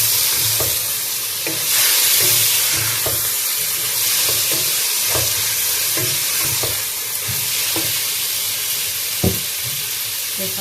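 Onions with pepper and spices frying for chicken kofta curry, a steady sizzle with regular scraping stirs of a spoon against the pan.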